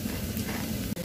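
Grated potato pancakes sizzle steadily in hot oil in a frying pan, a continuous close, even crackling hiss with no talk over it.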